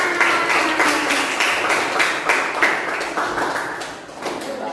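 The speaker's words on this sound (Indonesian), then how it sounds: "Tepuk tangan" Classmates give a round of applause in a classroom after a presentation, a sustained wash of many hands clapping at an even level before easing slightly.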